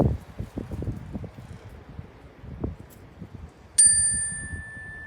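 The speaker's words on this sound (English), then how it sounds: "I'm going to ring the bell again" A single meditation bell strikes once with a clear metallic tone and then rings out in a long, steady sustain, preceded by soft rustling and low shuffling in a quiet room.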